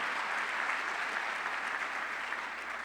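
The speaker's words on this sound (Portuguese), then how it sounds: "Queria pedir uma salva de palmas para vocês" Steady, dense audience applause fills a forum hall, a continuous wash of many hands clapping at even loudness with no break, heard alone.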